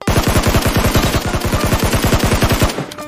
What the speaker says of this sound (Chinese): 看到旋转楼在搜物资的敌人，鲨鱼知道自己的机会来了，瞅准时机果断开枪。